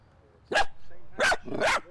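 Three short, sharp barks from a young female puppy given as a surprise companion to a retired Army staff sergeant, evenly spaced, fairly close and loud against quiet background.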